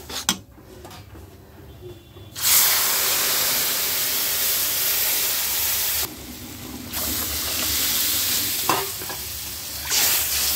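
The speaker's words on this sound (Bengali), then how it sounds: "সুজিটা ভাজা হয়েছে। এখন পানি দিয়ে দিব।" Semolina toasted in oil with bay leaves has water poured in, setting off a sudden loud, steady sizzle and hiss with stirring that runs for several seconds and eases briefly before rising again.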